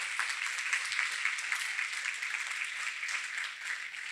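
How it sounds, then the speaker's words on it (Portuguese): A church congregation claps in praise during a sermon, a continuous, fairly faint patter of many hands held at an even level throughout. "Vamos aplaudir o Senhor."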